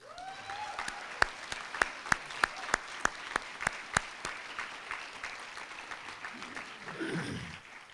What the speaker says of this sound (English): let's give a round of applause to our bagpiper, Meredith